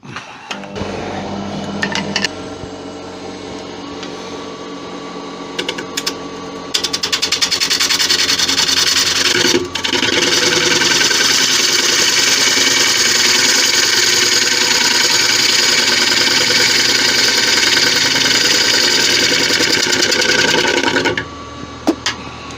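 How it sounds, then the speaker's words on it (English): A woodturning gouge being sharpened: a motor hums steadily, then a loud, bright, continuous grinding hiss runs for about fourteen seconds before cutting off, close and with no talking. "so I'll sharpen the gouge"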